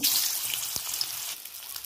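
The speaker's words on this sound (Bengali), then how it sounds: "তেলটা গরম হয়ে গেছে, মাছগুলো ভেজে নেব।" Fish coated with salt and turmeric fry in hot oil, giving a steady, close hissing sizzle that continues throughout without speech.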